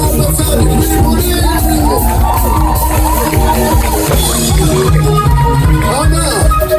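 A live concert audience cheering and whooping, a loud continuous crowd roar with shouts rising out of it, a voice talking over the noise.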